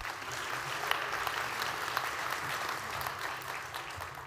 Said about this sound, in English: Let's give ourselves a big round of applause again.